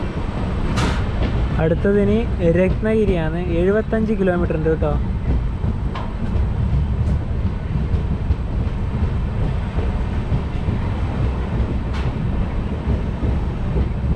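Netravati Express sleeper-class coach rumbling along just after departing Chiplun station, a continuous loud rolling roar of wheels and carriage noise with faint clacks, while someone speaks briefly over it near the start.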